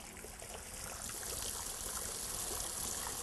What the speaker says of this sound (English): as I fill this up and the water comes out of here